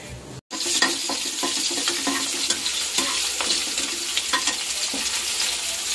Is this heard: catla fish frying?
yes